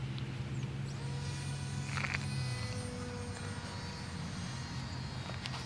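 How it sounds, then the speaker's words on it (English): Small Hobbyking Mini Breeze electric RC glider in flight with its motor barely running, a faint steady low drone heard from a distance over quiet outdoor background. "Got a little bit of the trim motor on."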